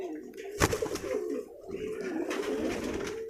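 Fancy pigeons at a breeding farm near Kolkata coo in soft, throaty rolling calls close to the microphone, one pair steel and red, with a brief sharp clap partway through and low background noise.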